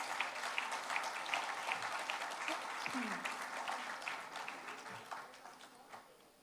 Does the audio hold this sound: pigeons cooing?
no